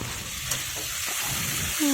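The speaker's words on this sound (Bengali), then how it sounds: "তারপর পাঁচ ফোড়ন দিয়ে ভাজা করে নিতে হবে তো আদা রসুনের পেস্ট দিয়ে দিলাম" Panch phoron spices and ginger-garlic paste sizzle in hot oil with chopped onion, a close, continuous frying hiss with a faint squeak just before the end.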